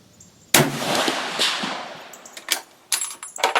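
A single sharp, loud gunshot from a sporterized 1898 Krag carbine in .30-40 with a short barrel, firing a standard 180-grain Remington Core-Lokt spire point load, rings out outdoors with a long fading echo, followed by a few crisp metallic clicks.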